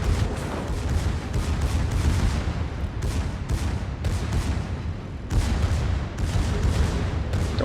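Heavy naval shellfire in a warship battle game, with the German battleship Pommern under fire from the Lepanto, gives dense, continuous booms and rumbling blasts with repeated sharp onsets over a loud low roar.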